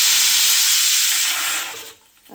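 A kitchen pressure cooker vents steam in a loud, steady hiss that holds for nearly two seconds and then cuts off abruptly, leaving a brief quiet.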